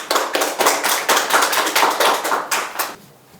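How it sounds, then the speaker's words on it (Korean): An audience at the 14th Kang Man-gil research grant award ceremony breaks into steady, rhythmic applause, a hall full of clapping hands that fades out near the end. "힘찬 박수로 맞아주십시오"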